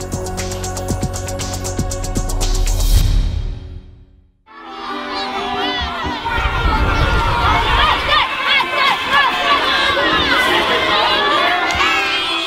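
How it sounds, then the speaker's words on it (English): Loud cheering and shouting from children at a Korean village school field day in autumn, echoing outdoors; after a brief dip into near silence, excited voices, squeals and crowd chatter swell again and carry on boisterously. "Children's loud cheering echoes through the normally quiet village."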